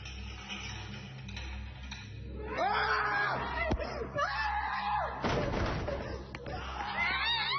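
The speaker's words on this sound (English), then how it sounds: "Seconds later, a loud scream can be heard and the explorers run off into the darkness." A loud human scream bursts out in dark, eerie footage of explorers, rising in sharp repeated wails over a low rumbling background with scattered thuds as they flee.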